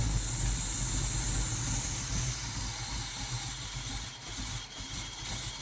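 A big block Trans Am engine with a Quadrajet carburetor idles steadily, a low rumble with hiss on top that eases down slightly toward the end. Nobody talks.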